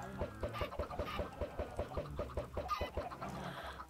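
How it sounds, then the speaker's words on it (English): Chickens clucking in Minecraft, a rapid series of short rhythmic clucks and cackles from a flock, fairly close and steady throughout, with no voices. "I actually don't want to maintain a huge flock of chickens. They're noisy."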